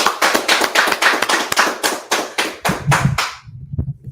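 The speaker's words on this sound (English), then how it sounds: "let's clap it up" A small group of people claps together in sharp, distinct, rhythmic claps, about a dozen close and loud, before the clapping trails off into a few soft knocks and quiet.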